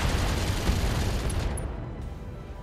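Mech machine guns firing in the BattleTech video game, a dense continuous stream of rapid gunfire that stays loud and steady throughout without pause.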